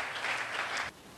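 A church congregation breaks into loud, close applause at a morning service, a dense burst of clapping that stops abruptly near the end.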